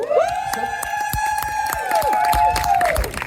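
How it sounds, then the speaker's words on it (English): An audience at a Renaissance festival storytelling show applauds and cheers, steady dense clapping mixed with crowd noise and a sustained whistle-like tone lasting a few seconds. "Now there's applause for a dubious career choice."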